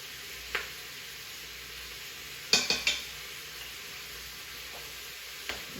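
Salt is stirred into sweet and sour soup in a pot over a faint, steady sizzle, with a few sharp utensil clinks against the pot. The clinks are close and brief, and there is no talk.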